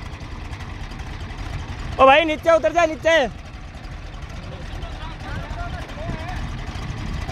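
A Swaraj tractor engine labours up a steep slope in third low gear with no one at the wheel, a steady low rumble running throughout while someone briefly shouts over it.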